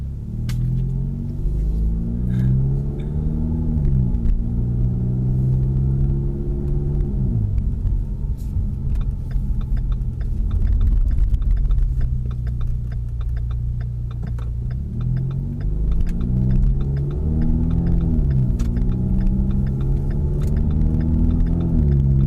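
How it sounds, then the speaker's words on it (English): A Ford Mustang EcoBoost exhaust drones steadily from inside the cabin at normal cruising speed, with a low rumble that rises and falls gently through gear shifts and some faint ticking throughout. "we're just gonna do some regular driving right now, so that way you can hear like normal speeds, cruising"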